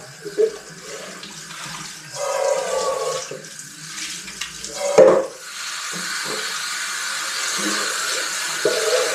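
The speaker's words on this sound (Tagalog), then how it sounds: "Lakas ng tubig." Strong water gushing from a tap, a loud, steady rushing stream close by with occasional knocks and splashes as it runs for several seconds.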